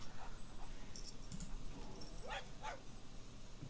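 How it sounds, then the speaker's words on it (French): A fox gives short, sharp yaps and yips in a few quick bursts at moderate distance, separated by brief pauses over background noise. "Pourquoi il aboie? Un renard n'aboie pas."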